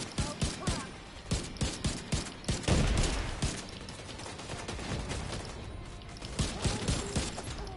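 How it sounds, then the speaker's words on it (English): Grenade launcher fire in The Division 2 video game, a rapid series of sharp repeated shots and bursts with a heavy explosive swell, followed by quieter rumbling and more clustered shots near the end. "You know where you can hear the grenade launcher, isn't it? Shooting like 7 times."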